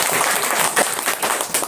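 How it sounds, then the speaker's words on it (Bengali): Audience applause at a winter clothing distribution event, a dense, steady wash of many hands clapping with a few sharper claps standing out. "আরেকটা জোড়া হাততালি আপু"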